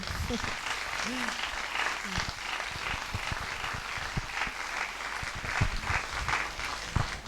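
An audience applauds a writer at a talk, steady clapping that stays moderately quiet throughout, with a voice speaking over it and low thuds and shuffles below.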